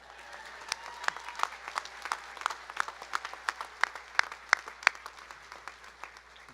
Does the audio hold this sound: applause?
yes